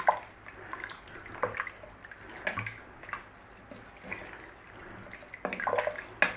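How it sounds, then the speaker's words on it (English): Barley and chicken stock soup is stirred in a pot, giving soft liquid sloshing and drip-like splashes with a few light knocks, quiet and close with no talking. "I give that a little stir."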